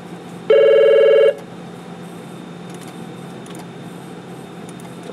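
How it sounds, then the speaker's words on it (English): An office telephone gives a single loud electronic ring burst lasting under a second, then leaves a quiet room hum from computer lab equipment with no talking. "It's always helpful when the phone rings in the middle of a video"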